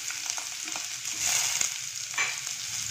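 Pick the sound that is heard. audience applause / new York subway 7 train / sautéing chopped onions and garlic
sautéing chopped onions and garlic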